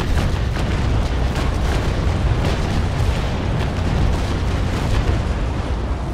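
Naval cannon fire in the Naval Action video game, dense rumbling booms and blasts rolling continuously, loud and broadband with no talk over it.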